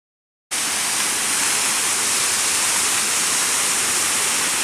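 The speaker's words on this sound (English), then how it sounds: "I hear water. And water means a waterfall." Steady, loud rushing waterfall in the Tails Goes to the Coast video game, starting abruptly after a brief silence and then holding a constant broad roar with no voices.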